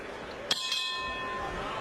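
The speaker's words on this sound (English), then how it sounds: "The bell in round number 2." A boxing ring bell clangs twice in quick succession to open round 2 of a bantamweight championship fight between Donaire and Inoue, bright ringing tones decaying over low arena murmur.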